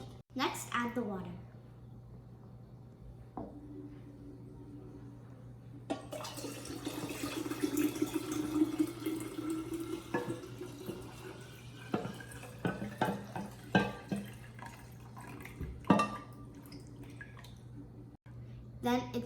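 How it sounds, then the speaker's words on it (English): Water poured into a pitcher holding lemon juice and sugar, a steady splashing fill with dripping and a few clinks, moderately close. "Next, add the water."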